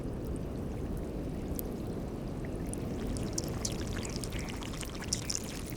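Melting glacier ice gives off a faint, dense crackle of tiny popping air bubbles, scattered ticks and plops spread over a constant watery wash, recorded close and heard alone.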